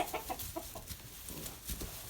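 Chickens on a farm with sheep and newborn lambs cluck in a quick, irregular series of soft, close calls against a faint background hum.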